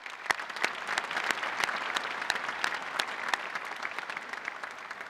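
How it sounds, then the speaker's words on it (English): An audience at a university fall commencement ceremony applauds steadily for several seconds, a dense wash of clapping with a few sharp nearby claps standing out. "Let's give them a round of applause."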